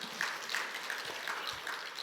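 A church congregation applauding during an early-morning revival service: continuous dense clapping from a crowd, moderately loud and steady across the whole stretch.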